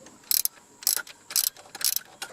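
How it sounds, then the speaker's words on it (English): A ratchet wrench tightens a bolt on a new idler pulley in a Chevy Tahoe engine bay, giving four or five quick bursts of sharp clicking with short pauses between them, close and fairly quiet. "it's just a matter of getting the bolt in and tightened up"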